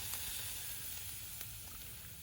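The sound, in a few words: pot of pork leg boiling over wood fire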